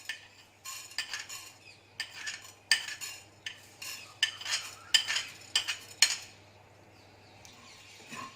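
Coriander seeds are dry-roasted in a pan for Chettinad spice powder. A spoon stirs and scrapes the pan in a series of short metallic clinks and rattles, about a dozen bursts at close range, over a steady low hum, with no talk.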